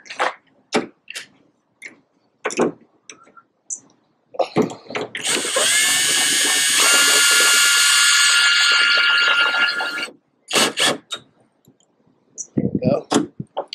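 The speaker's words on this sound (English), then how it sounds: "Now I can just tighten it down." A clamp is tightened on an Oedro soft roll-up tonneau cover fitted to a Tacoma pickup. Scattered close clicks give way to about five seconds of steady ratcheting, then a few more sharp clicks.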